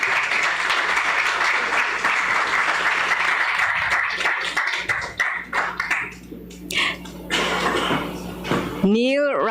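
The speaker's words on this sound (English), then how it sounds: "A warm round of applause." An award ceremony audience gives a warm round of applause, dense clapping that thins into scattered claps and stops, with brief voices and a microphone noise at the close.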